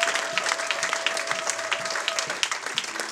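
Church congregation clapping steadily at an Easter Sunday service to acclaim the Lord, dense applause filling the room with a sustained tone running under it.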